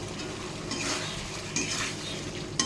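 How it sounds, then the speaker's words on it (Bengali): Spice masala for a taro and prawn curry is stirred and fried in a pan, with a soft steady sizzle and brief scraping strokes of the spoon against the metal. "মশলাটা আমার প্রায় কষা হয়ে এসছে"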